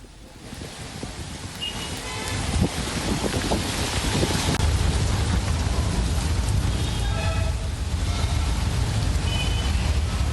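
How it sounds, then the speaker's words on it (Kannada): Heavy pre-monsoon rain pours over Bengaluru, a dense, steady roar of downpour mixed with wind buffeting that builds after a few seconds and stays loud throughout, with no voices. "ಬೆಂಗಳೂರಿನ ಹಲವೆಡೆ ಮುಂಗಾರು ಪೂರ್ವ ಮಳೆ ಆರ್ಭಟಿಸಿದೆ"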